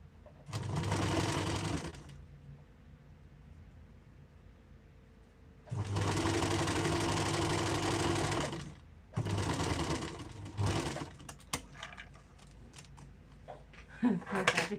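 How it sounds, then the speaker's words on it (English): A sewing machine runs in three bursts, stitching two fabric pieces together to join bias binding, each run a steady close motorized whir separated by pauses with light handling clatter. "And then I will sew the two pieces together."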